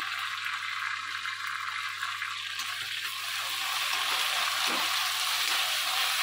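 Ginger garlic paste and slit green chillies fry in hot oil, giving a loud, steady, hissing sizzle that continues without a break and builds slightly toward the end.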